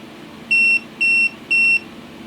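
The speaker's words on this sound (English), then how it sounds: "It beeped just to give you, hey, look, something's a bit high, this is a bit dangerous" A Mustool MT8206 graphical multimeter sounds its high-voltage warning: three short, evenly spaced electronic beeps, loud and clear over a low background hum.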